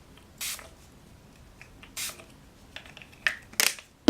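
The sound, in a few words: facial mist spray bottle spritzing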